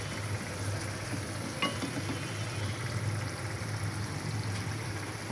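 Fish bhuna simmers in oil in a pan with a soft, steady sizzle and bubbling, close and continuous, over a low background hum, with no talking.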